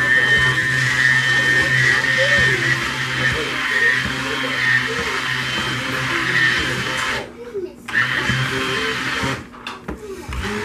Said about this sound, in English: the button on my stick blender is going out